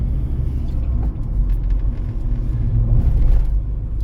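A car engine rumbles low and steady as the vehicle rolls along slowly, with a faint rhythmic chugging under the road noise.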